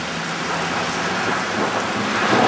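Thunder rumbles low and steady beneath heavy rain pouring onto pavement in a parking lot during a downtown storm, a loud unbroken wash of sound with no voices.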